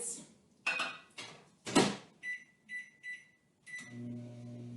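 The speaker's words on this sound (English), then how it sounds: "Just going to put it in the microwave for about 15 seconds." Microwave oven used to melt two tablespoons of butter: a door clunk, clattering dish handling, a run of short beeps, then the oven's low hum starting up, all close and fairly quiet.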